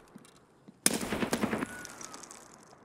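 A sudden close burst of rapid automatic fire from a VSS Val rifle in Escape from Tarkov, about three-quarters of a second of fast suppressed shots, followed by a fading echo tail after a quiet start.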